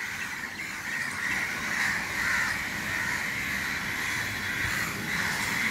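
A crow caws over and over in a run of harsh, rasping calls, loud and continuous above faint background noise.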